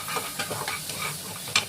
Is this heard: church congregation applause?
no